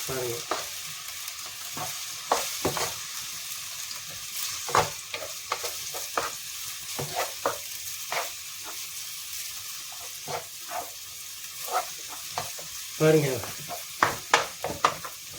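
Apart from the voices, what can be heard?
sautéing in a pan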